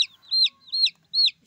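A noisy white chick, one of a flock of dyed rainbow chickens kept in cardboard boxes, gives three evenly spaced shrill high peeping calls close by, loud and alone.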